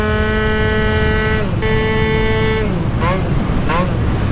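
A Malaguti Phantom F12 racing scooter's tuned engine, loud and close, with a steady high droning tone that shifts pitch and then rises in quick revving sweeps over continuous rumbling noise.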